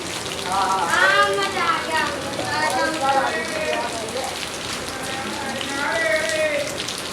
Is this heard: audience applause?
no